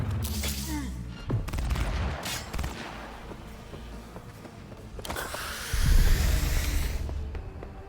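Bursts of gunfire in the video game Cyberpunk 2077, with sharp cracks and booms scattered across a dense, noisy combat mix, one heavy blast near the end.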